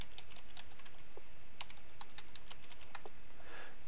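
Quick bursts of computer keyboard typing as a username and password are entered, close-up clicks in irregular clusters over a low steady background hum.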